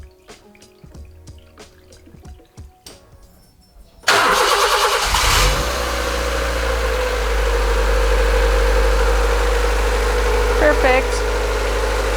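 After faint clicks and metallic taps, the D14 engine in a Honda Civic fires up in a garage following a timing belt replacement, then settles into a steady, smooth idle that runs loud and close.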